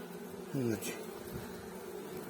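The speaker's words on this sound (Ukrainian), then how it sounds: "льотна бджола є" Honeybees hum faintly around a hive of a small, struggling colony, and one bee buzzes loudly past close by for a brief moment before the soft background drone returns.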